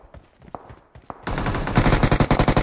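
Automatic gunfire in the mobile battle royale game BGMI: a few scattered shots first, then sustained loud rapid bursts of machine-gun fire that grow heavier toward the end.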